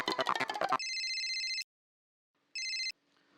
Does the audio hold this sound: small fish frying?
no